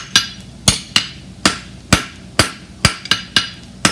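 A bar shoe gets hammered on an anvil, about ten sharp ringing metallic blows in an uneven rhythm, close and loud with no talking.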